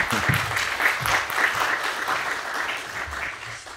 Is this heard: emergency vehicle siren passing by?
no